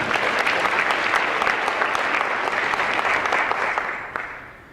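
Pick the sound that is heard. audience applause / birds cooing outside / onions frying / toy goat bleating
audience applause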